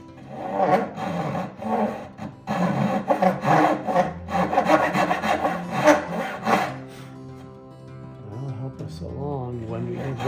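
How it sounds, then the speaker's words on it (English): A Dozuki hand saw cuts through walnut at a workbench in steady, rasping back-and-forth strokes, loud and close, fading after about seven seconds into a quieter stretch with what sounds like talking. "We're just going to help it along with a Dozoki saw"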